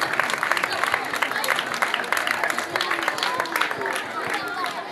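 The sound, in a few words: audience applause for teachers at a ceremony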